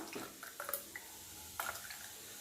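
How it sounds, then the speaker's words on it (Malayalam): Faint liquid drips and trickles as liquid is strained into a glass, a few soft splashes spaced irregularly against a quiet background, close by. "ഇനി ഒരു ഗ്ലാസ്സിലേക്ക് അരിച്ചൊഴിക്കാം"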